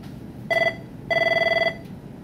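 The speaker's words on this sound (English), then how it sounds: "Hey, can someone get the phone, please?" A telephone rings in an indoor room, two loud trilling electronic bursts, one short and one longer, with no talk.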